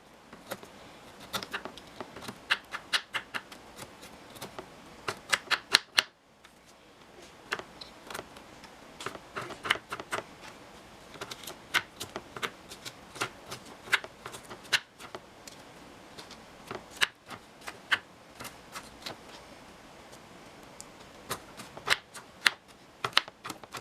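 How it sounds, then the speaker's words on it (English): A knife mincing fresh ginger makes quick, sharp, close taps on a cutting board, arriving in irregular clusters and brisk runs, with no talking. "you mince it up as much as possible"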